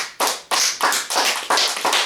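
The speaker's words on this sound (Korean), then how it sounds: "다 같이 하나님께 영광의 박수 드리겠습니다." A church congregation claps together in steady unison during a Sunday service, six or seven sharp, loud beats in a regular rhythm with no talking.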